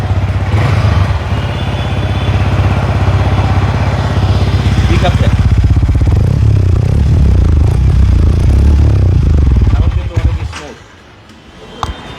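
Yamaha R15 V4 155cc motorcycle, a low-mileage Indonesian-model bike, idling and revving close by in a steady loud engine drone that cuts off near the end, with people talking over it.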